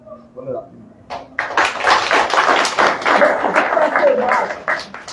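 An audience applauds the Digicel Foundation team, sustained dense clapping that rises after a brief spoken opening and continues steadily, with a voice talking over it.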